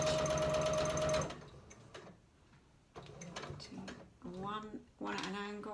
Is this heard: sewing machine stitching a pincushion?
yes